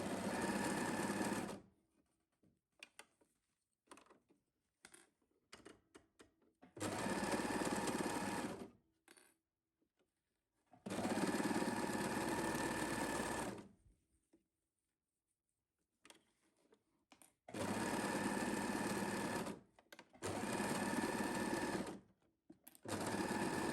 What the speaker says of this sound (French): On va piquer nos épaules.